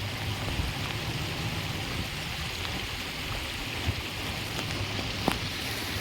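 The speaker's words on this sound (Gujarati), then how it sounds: "પોરબંદરમાં ધમાકેદાર વરસાદની એન્ટ્રી થઈ છે ગઈકાલેથી. તે આખી રાત વરસે છે." Heavy monsoon rain in Porbandar pours down steadily with a dense, even hiss, broken now and then by faint drips and splashes, with no voices over it.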